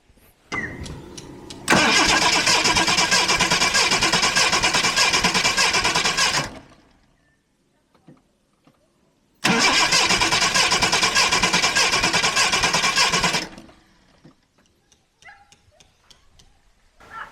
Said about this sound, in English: I've disabled the ignition, so I'm gonna go inside and crank it over